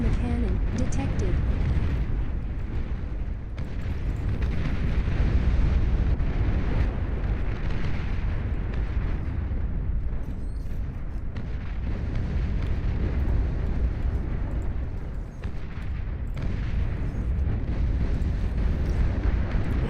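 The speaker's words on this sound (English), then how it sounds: "Long-range plasma cannon detected." Long-range plasma cannon fire in a strategy video game, heard as a continuous heavy rumble of blasts with dense low-end roar lasting throughout, with a voice speaking over it.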